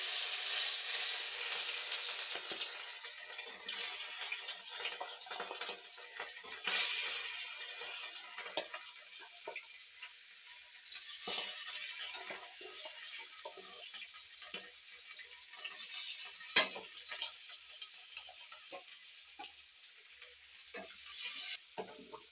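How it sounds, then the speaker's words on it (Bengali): Rohu fish, rubbed with salt and turmeric, frying in oil in a kadai, giving a steady soft sizzle with occasional stirring clatter and crackle bursts, close and moderately quiet with no talking. "মাছ ভেজে নিচ্ছি মাছটা ভাজা হয়ে যাক"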